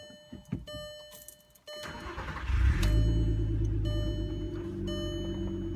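Volkswagen Mk4 R32 from 2004 with 80,000 miles, its engine cranking and starting after a key jingle, then settling into a loud, steady idle close by.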